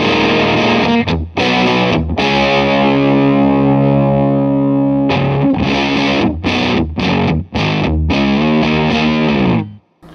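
Electric guitar pushed through a Land Farm No Masters fuzz pedal set meatier and louder, thick saturated chords ringing out long, then a choppy run of short stabbed chords, loud and upfront with no voices.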